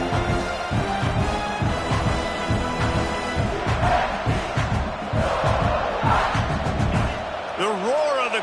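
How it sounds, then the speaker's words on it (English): Stadium crowd at a football game roaring steadily and loudly throughout, a dense wash of voices under a commentator's talk. "The roar of the crowd trying to fuel this defense to keep them pinned in their own end"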